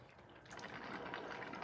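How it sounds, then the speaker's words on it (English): Water gushes and splashes steadily into a bucket for a moment, a close, continuous pouring rush with no voices over it. "let's get some of this water off of here into this bucket"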